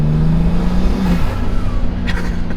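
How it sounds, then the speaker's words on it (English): A twin-turbo car with front-mounted intakes lets off the throttle while the engine hums steadily and loudly, with a short whooshing turbo release near the end and no talk. "the second turbo intake is on the other side of the car, so you literally hear like a delay when it lets off."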